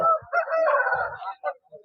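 A rooster crows once nearby at a livestock market, a drawn-out strained call followed by a few short clucks.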